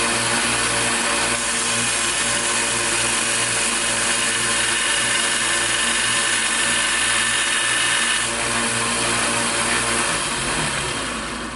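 A 2x48 belt grinder runs continuously, a loud steady motor hum with a harsh broadband grinding hiss throughout, no voices.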